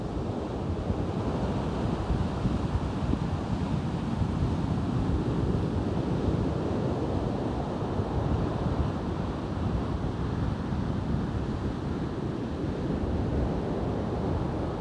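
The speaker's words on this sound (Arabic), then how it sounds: "رياح عاتية." Strong winds blow along a rough sea, and dense, constant wind noise blends with the churning roar of surf breaking nearby, loud and unbroken from start to end with no talking.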